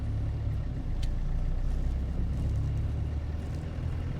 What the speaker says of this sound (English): Very low RPMs, and it's just crawling right up this hill.